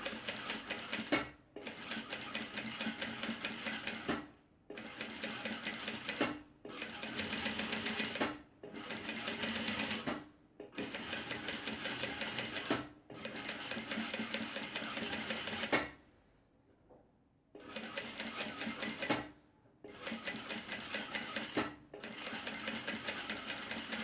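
Sewing machine stitching a zipper handbag, running in rapid steady bursts of a few seconds each, separated by short pauses, loud and close with no talking.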